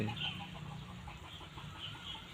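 Faint, steady clucking from jungle fowl somewhere outdoors, soft repeated notes over a constant background hiss.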